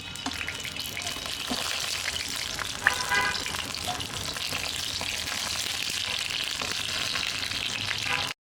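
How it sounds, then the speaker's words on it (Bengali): Eggplant pieces fry in hot oil, giving a loud, steady crackling sizzle with a single brief knock partway through. "একটু সময় নিয়ে বেগুনগুলোকে ভালো করে ভেজে নিব।"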